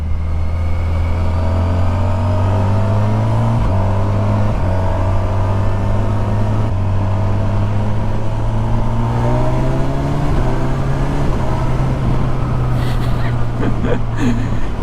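Kawasaki motorcycle on a test ride, at under a quarter throttle, accelerates loudly up through several gears, its engine note climbing and dropping at each shift, recorded close and steady throughout.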